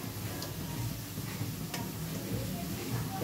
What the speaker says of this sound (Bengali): ভাজছি গোল করে নেওয়ার জন্য